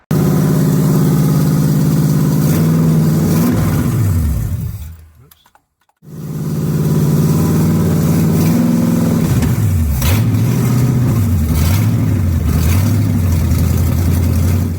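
A restored 1969 Pontiac GTO engine runs loud and close, cuts out to near silence for about a second, then fires back up and idles with a wavering, rising and falling rev.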